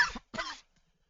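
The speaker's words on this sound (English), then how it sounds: "she coughs and she clears her throat" A woman coughs twice in quick succession, each burst short and close, followed by a brief rasp of throat clearing before falling silent.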